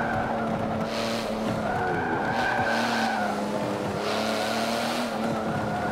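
Race car engine in Forza Motorsport 7 holding a steady droning note with rising and falling revs, tires squealing and skidding through corners, loud and continuous with no voices.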